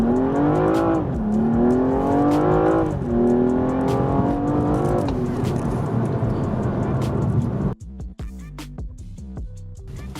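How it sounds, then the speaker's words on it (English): A stock BMW M235i in Sport Traction mode launches from a brake boost and accelerates to 60, its engine climbing loudly through rising revs with quick upshifts between pulls, then cutting off abruptly near the end. "We're going to do a little brake boost on it, and we'll see what the 0 to 60 is."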